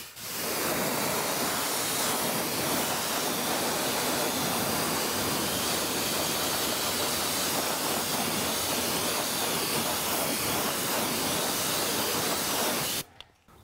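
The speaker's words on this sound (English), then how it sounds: "Now I'm going to take my pressure washer and we're going to rinse this off." A pressure washer rinses a car wheel on a driveway, a loud, steady, broad hissing spray running continuously for several seconds before cutting off.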